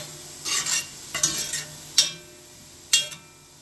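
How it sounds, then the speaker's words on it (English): Chili ingredients crisp in a pan, a soft background sizzle broken by four sharp bursts of stirring and scraping spaced about a second apart, close and clear with no talk. "Cook this till it's crispy"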